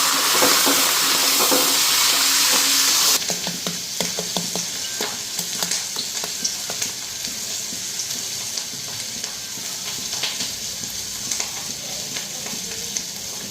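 Food with salt, turmeric and green chillies fries in oil in a home kitchen, a loud rushing sizzle at first that drops to a steadier crackle with repeated stirring scrapes and clicks, close by and without speech.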